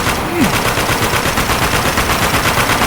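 Sustained automatic gunfire from a machine gun in the shooter video game Spec Ops: The Line, a dense continuous rattle of rapid shots running loud and close through the whole stretch.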